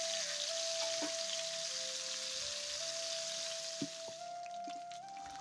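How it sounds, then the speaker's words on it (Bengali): Pangas fish frying in hot oil in a wok, a steady close sizzle that holds throughout with a few soft clicks and pops and no talking. "এই পর্যায়ে আমি মাছগুলো ভেজে নেব। এই জন্য কড়াইতে তেল দিয়ে দিচ্ছি।"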